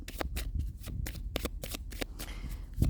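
A deck of oracle cards is shuffled by hand up close, a quick run of soft, rhythmic riffling flutters over about three seconds.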